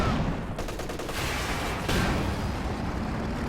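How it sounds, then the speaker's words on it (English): An EZ8 tank firing in the Company of Heroes 2 strategy game, heard as a burst of sharp rapid shots, followed by a heavy cannon blast over ongoing battlefield noise. "Certainly sounds like the EZ8 when it's firing."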